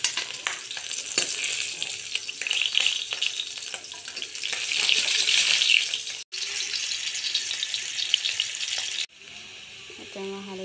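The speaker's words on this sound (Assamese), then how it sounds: "এতিয়া মাছ দুপিচ অলপ ভাজিম।" Pieces of magur fish sizzle steadily in hot mustard oil, a loud continuous frying hiss with brief gaps and clinks near the end.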